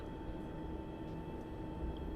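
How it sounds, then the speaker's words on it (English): A Boeing 737-200 engine spools up in a flight simulator game, a steady, loud broadband roar with a constant whine layered on top, holding even throughout with no talking. "looks like we've got a good start on engine number 2 anyway"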